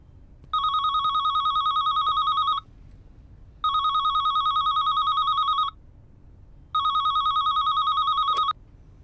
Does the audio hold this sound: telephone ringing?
yes